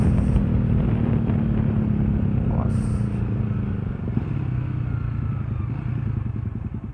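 A motorcycle fitted with a Thunder aftermarket exhaust rumbles and revs up close during a community group ride, the deep engine drone continuous with clattering, over faint voices.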